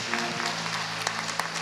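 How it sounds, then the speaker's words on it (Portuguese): A church congregation claps steadily and continuously, a dense, even wash of applause with a few sharper claps standing out. "Aplauda mais uma vez"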